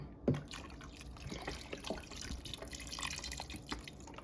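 Chicken broth poured from a box into a pot of black-eyed and field peas, a close dripping, trickling splash with a small plop at the start and uneven liquid patter continuing for a few seconds.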